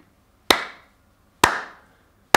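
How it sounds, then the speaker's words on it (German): Hand claps struck alone and deliberately, three sharp loud claps spaced about a second apart, each with a quick decaying tail, demonstrating clapping off the beat. "Jeder dritte Mensch kann nicht so klatschen."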